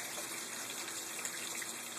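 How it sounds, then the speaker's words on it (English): Water pumped up from an aquaponics fish tank makes a steady, even rushing gush, close and moderately quiet, with no talk. "from the fish tank, the water is pumped up here"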